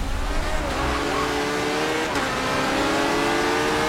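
Race car engines rev in a video game race, a continuous loud whining drone with rising and falling pitch and some tire noise, steady throughout with no talking.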